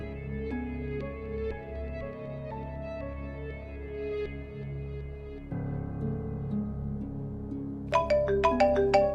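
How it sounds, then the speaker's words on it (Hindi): A melodic phone ringtone plays steadily at moderate volume, switching to a brighter, higher chiming pattern near the end. "अब कर रहे कुरैशी का बच्चा मुझे फोन"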